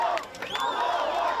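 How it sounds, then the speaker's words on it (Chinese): A crowd cheers in Gaza after news of a ceasefire, a dense wash of raised voices, whoops and shouts at steady loudness throughout, with one shrill voice rising above the rest. "加沙汉尼斯基路响起欢呼声"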